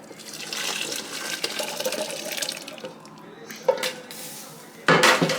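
Beef soup pours and sloshes into a blender while utensils and dishes clink, ending with a louder burst of splashing close by.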